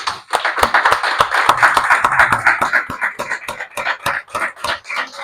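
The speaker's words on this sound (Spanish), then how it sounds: "Den un fuerte aplauso al Señor Jesús." A church congregation claps in praise, sharp individual hand claps ringing out close and loud in an uneven, lively rhythm that loosens into scattered claps toward the end.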